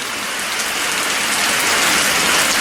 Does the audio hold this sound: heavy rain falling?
yes